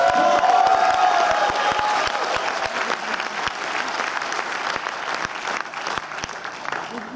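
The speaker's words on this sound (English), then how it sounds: "So a big round of applause for that." Loud concert audience applause and cheering with whoops at a tribute show in a theater, starting strong and thinning slightly over several seconds, with a few sharp claps and faint voices in the crowd.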